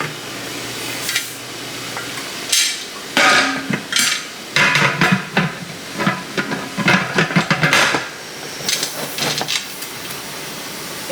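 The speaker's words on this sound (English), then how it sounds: "You can really feel the steam coming out of the pot." Pressure canner processing carrots on a stove, with bursts of hissing steam alongside clanks and scrapes of the metal pot and lid, irregular and close, without speech.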